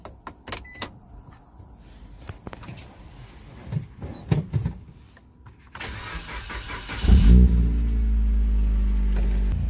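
A turbocharged Suzuki Swift ZC31S with a blown head gasket cranks and catches at about seven seconds, then settles into a loud, steady idle close by, after some scattered clicks and knocks.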